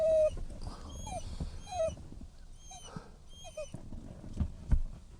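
A dog whimpers and whines in short, high, plaintive bursts, with some rustling and scuffling nearby.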